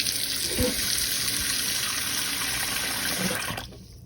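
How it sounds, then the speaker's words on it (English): Water pours steadily into a hot cast iron skillet during cleaning of stuck food, a continuous hissing rush with a few small clanks, cutting off near the end. "I put just a little more water back in there."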